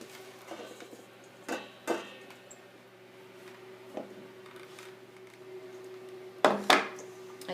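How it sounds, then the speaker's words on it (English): A spoon scrapes and knocks against a bowl as chocolate truffle mixture is mixed by hand, a few sparse clinks and taps scattered over a quiet steady hum. "I spoon this into a bowl and I mix the rest by hand"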